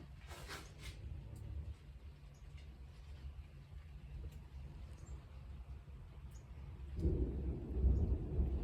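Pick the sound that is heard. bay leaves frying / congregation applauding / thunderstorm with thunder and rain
thunderstorm with thunder and rain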